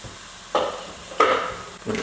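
Mushrooms cooking in a pot with olive oil for a vegetarian chilli, giving three short bursts of sizzling and stirring, each rising sharply and then fading, close and moderately loud with no talk.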